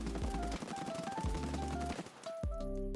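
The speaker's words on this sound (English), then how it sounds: "Alright, and now walking and shooting." A video game gun fires on full auto while the player walks, rapid shots in long close bursts broken by short pauses, loud and without talk.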